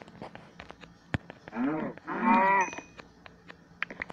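A cow in the video game Beetle Survival, on a deserted island, lets out two drawn-out moos in a row, loud and close, over faint background clicks and game noise.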